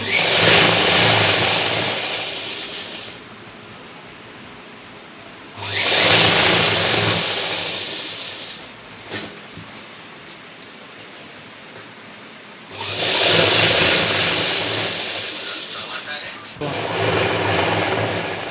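A sewing machine stitching the seam of a straight hip-size pant runs in loud bursts of several seconds with quiet pauses between, buzzing close by with no talk over it.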